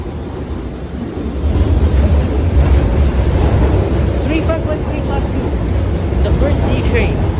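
A Hong Kong MTR C-stock train passes near Kowloon Bay, its broadband rumble swelling after a moment and holding steady and loud, with people talking over it.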